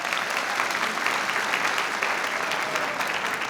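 A crowd applauds steadily through a college commencement ceremony at Chabot College, dense continuous clapping at an even level from start to finish with no voices rising above it.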